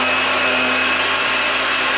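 A kitchen blender whirs steadily while mixing frozen pineapple into homemade Dole Whip, a loud continuous motor drone that shifts pitch slightly partway through with no talking.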